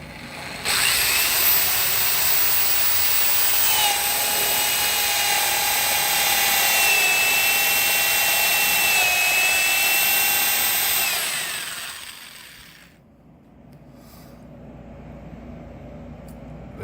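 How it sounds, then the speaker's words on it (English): A power drill bores a hole in the metal fuel tank of a Kawasaki KZ650 cafe racer, running loud and steady with a high whine for about eleven seconds before stopping. "Number 2 hole, drilled, slightly smaller than the first one."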